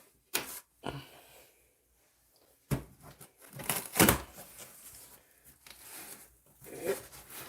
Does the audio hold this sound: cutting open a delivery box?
yes